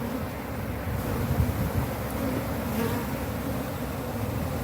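Bees from a defensive hive buzz in a dense, steady swarm drone as frames are shaken into a bucket, loud and close with no voices over it.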